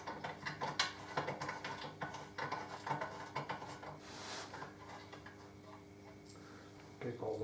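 A ratchet clicks rapidly and unevenly as it spins bolts out on a Harley Davidson Deuce trike, with close metallic ticking in bursts, then a brief lull and a fresh burst at the end.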